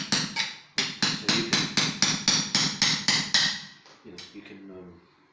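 A hammer strikes a coconut to crack it open, about a dozen sharp, evenly paced knocks at close range. The blows stop, then quieter handling noises follow.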